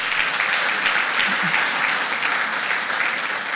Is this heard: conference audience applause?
yes